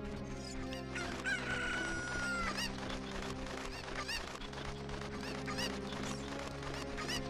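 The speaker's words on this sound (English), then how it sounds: "let's get these cuckoos now" Cuckoo chickens in The Legend of Zelda: Ocarina of Time, game audio with bright squawking and crowing calls over a steady looping music bed, the calls most prominent in the first few seconds and continuing intermittently throughout.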